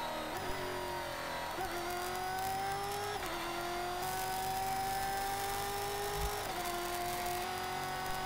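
A stock car races on the Buenos Aires circuit, its engine whining steadily and climbing in pitch through several gear changes, heard from inside or close by with no talk.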